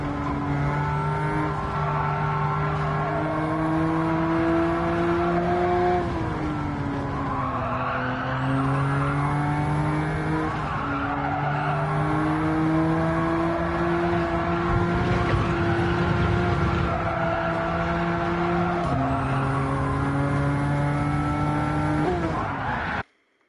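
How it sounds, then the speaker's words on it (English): Car engine in the racing game Gran Turismo 7 on PS5: a steady, moderately loud engine drone that rises and falls in pitch with gear changes, with occasional tire squeal, continuous until an abrupt cut at the end. "Nice car. Beautiful car. Sounds nice, not too loud, but sounds good."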